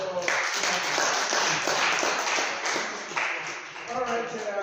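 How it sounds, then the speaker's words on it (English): Audience applause at the wrap-up of a student paper contest, a dense steady clapping filling the room for several seconds, loud and continuous with some murmuring underneath. "round of applause for"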